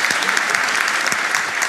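Brief burst of dense audience applause at a comedy talk event, many hands clapping steadily and loudly throughout.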